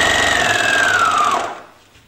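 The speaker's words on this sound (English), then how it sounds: "Turn on the machine, and now you can run your chain." An overlocker sewing machine running a thread chain, a loud, close, rapid mechanical whir with a faintly falling whine that cuts off and fades after about a second and a half.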